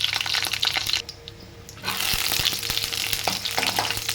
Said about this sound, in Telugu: ఎండుమిర్చి అనేది వేయించేసుకుందాం.